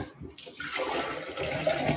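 Freshly filtered water from a Berkey filter is poured into a blender container for a banana maple tahini smoothie, a short steady splashing stream that grows fuller as it fills.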